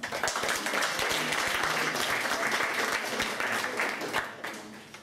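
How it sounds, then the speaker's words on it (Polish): A crowd applauds at a prize ceremony, a dense run of clapping that stays steady and fairly loud before easing off near the end. "Brawa."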